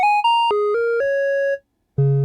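Stepped synthesizer tones from a sine wave run through a wavefolder in VCV Rack, bright and clean with rich harmonics, moving through several pitches before a short gap and a lower, buzzier note.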